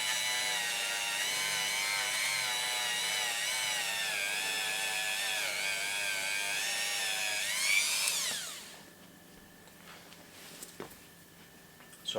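A power polisher works over a scratched motorcycle exhaust with a steady, high, whining hum for about eight seconds. It then winds down and stops, leaving a quiet room with faint clicks.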